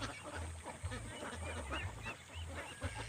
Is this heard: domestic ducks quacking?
yes